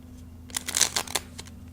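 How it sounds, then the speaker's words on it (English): A deck of small, stiff tarot cards is shuffled by hand in a quick burst of crisp riffling flutters lasting about a second, up close in a quiet room. "Try to shuffle on camera for you."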